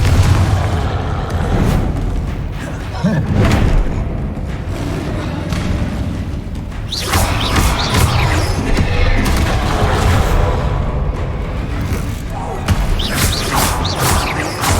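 Confringo spell blasts in Hogwarts Legacy amid combat, repeated heavy booms and crashing impacts layered over dense game noise, loud and continuous, with sharp crackling bursts around the middle and end.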